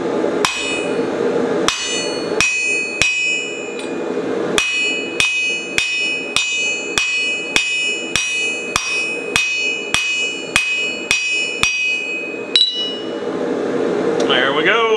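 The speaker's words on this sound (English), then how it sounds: "Moving to the cutting plate on the anvil. Got my hot cut here." A hammer strikes hot steel against a hot cut on the anvil while a pry bar is forged, landing about twenty sharp, ringing blows in a steady rhythm, loud and close, with no talk.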